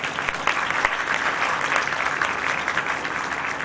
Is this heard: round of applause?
yes